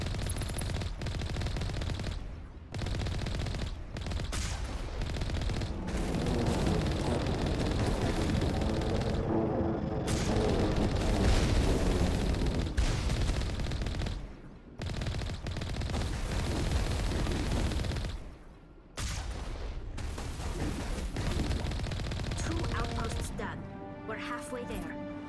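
Gunfire in the video game Mass Effect rattles in long sustained bursts of rapid fire, loud and dense, with brief gaps between volleys and someone talking over it.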